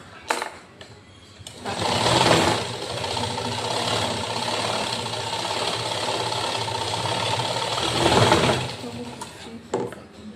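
Sewing machine stitching a blouse: a steady, fast mechanical whir runs for several seconds, starting and stopping with clicks at each end. Close, with faint talk at the edges.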